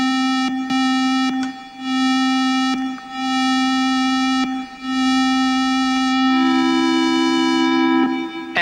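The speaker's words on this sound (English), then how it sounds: "let's hear what happens to the sound if we slow down the attack" Synthesizer plays a sustained buzzy, harmonic-rich tone with a slowed attack envelope, so each note swells in gently rather than striking. Several held notes follow one another at a steady pitch, shifting slightly higher near the end, loud and without voices.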